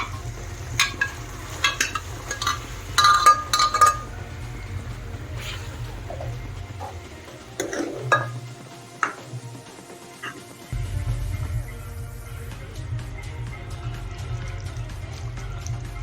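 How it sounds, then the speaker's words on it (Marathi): Cooked mutton tipped into a pan of oil-separated masala for a spicy mutton rassa, with stirring and sizzling clatter over a steady low frying hum that briefly drops away midway. "आता त्यामध्ये आपण हे शिजवलेलं मटण टाकून घ्यायचं आहे"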